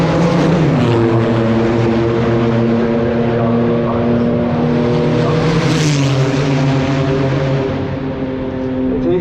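The Pescarolo 23 race car on the last lap of the 2023 Le Mans Classic makes a loud, sustained engine drone with strong harmonics that shifts in pitch as it passes.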